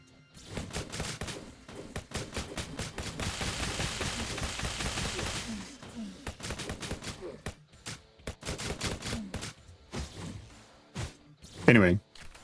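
Rapid automatic gunfire from a weapon in a zombie survival roguelite shooter game, dense bursts of shots, sometimes under music, with a pause and then a few more loud volleys near the end.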